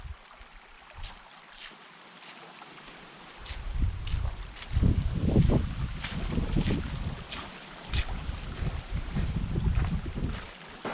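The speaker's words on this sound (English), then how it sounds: "A little noisy right there with baby rapids" Small rapids in a canyon stream, a rushing, gurgling wash that swells and fades with some wind buffeting the microphone, fairly close but not loud.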